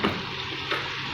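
A hot tarka tempering with chillies is poured into cooked dal, giving a steady, close sizzle and frying crackle that holds for about a second.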